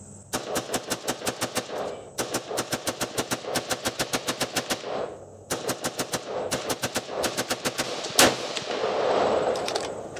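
An AR rifle fed from a 40-round MWG magazine fires on an outdoor range in rapid, evenly spaced shots, loud and close, in three long strings separated by short pauses.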